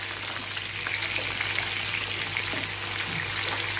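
Chicken pieces frying in a pan for chilli chicken, a steady, dense sizzle with soft crackles running continuously and fairly close, with no voices over it.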